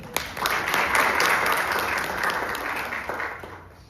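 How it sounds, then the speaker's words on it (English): An audience at a student leadership celebration event claps in a sustained round of applause, rising quickly to a full dense patter, then gradually thinning and fading toward the end. "Let's give him a round of applause."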